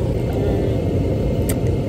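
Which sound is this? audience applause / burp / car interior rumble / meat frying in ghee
car interior rumble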